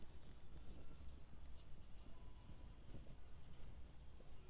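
Pen scratching across paper during a Class 12 accounts lesson, a steady soft scritching with small irregular strokes, faint and close, continuing for several seconds with no talk.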